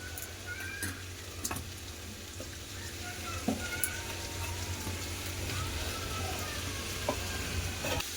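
Shrimp and ridge gourd fry in a pan with steady sizzling, with a few faint clicks and taps of utensils throughout.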